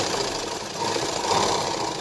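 Sewing machine stitching a joint seam on a lined blouse sleeve, a steady continuous mechanical whirring and clatter that runs unbroken and fairly loud throughout, with no voices.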